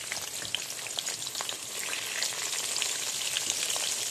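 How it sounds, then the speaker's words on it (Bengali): Jackfruit pieces fry in oil left from frying onions, seasoned with salt and turmeric, producing a continuous soft sizzle with scattered pops and crackles that grows slightly louder, with no talking. "আমি আগে কাঁঠালটা নুন হলুদ দিয়ে ভেজে নেব"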